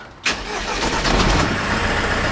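A campervan engine cranks and catches with a sudden loud burst, then settles into a steady, close, rumbling idle.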